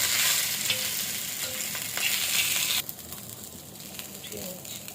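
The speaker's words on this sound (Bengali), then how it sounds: "আজকে এই রুই মাছগুলো তাওয়া ফ্রাই করবো" Pieces of rohu fish frying in oil on a tawa give a steady close sizzle that drops sharply in loudness partway through, then continues more quietly.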